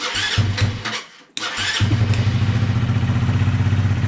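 A carburettor motorcycle engine is started with the choke on: a couple of churning cranks, a brief pause, then it catches and settles into a loud, steady, rapid idle thump close by.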